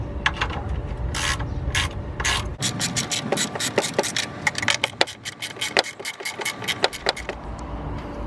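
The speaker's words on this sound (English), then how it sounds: "we're going to take these two 10 millimeter bolts off in order to take out the battery" Hand ratchet clicking rapidly while removing the 10 mm battery hold-down bolts on a 2018 Subaru WRX, close-up bursts of sharp pawl ticks in quick runs with brief pauses and some metallic rubbing.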